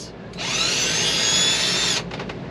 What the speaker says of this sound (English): Wow, they're taking those screws out.